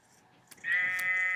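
A single sheep bleats in Minecraft, a short close bleat sounding alone after a faint quiet start.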